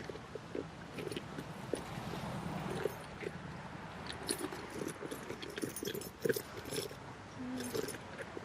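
Keys jangle and clink in short, scattered bursts, close by, alongside soft rustling and handling noises with no talking.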